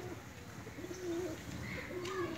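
A Pakistani flying pigeon, a 'band dam' type, coos in soft, repeated low rolling calls close by over faint background hiss.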